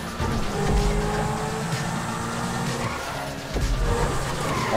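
Race car in GTA 5 driven hard, engine roaring near and loud with shifting revs, brief tyre squeal and skidding, a short dip before the engine surges again.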